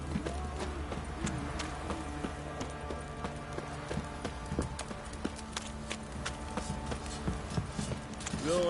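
Horses clip-clop with steady, close hoofbeats in a stable area in the video game The Witcher 3, continuous over low ambient rumble, with an occasional snort or whinny.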